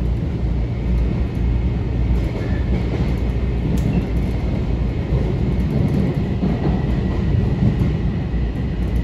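A Metro-North M7A electric commuter train runs on the Harlem Line, heard from inside as a loud, steady rumble of wheels on rail with a constant low roar and no voices.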